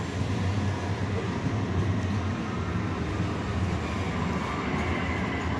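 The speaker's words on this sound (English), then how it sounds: "Those are Max trains." TriMet MAX light rail trains pass at the Oak station stop, a steady loud rumble of wheels and cars rolling by without pause, with no voices over it.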